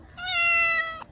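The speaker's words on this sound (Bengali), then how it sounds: "ওই যে মিউ বলছে" A single clear, drawn-out cat meow, close and fairly loud, rising then fading over about a second.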